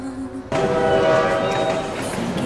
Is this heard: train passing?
yes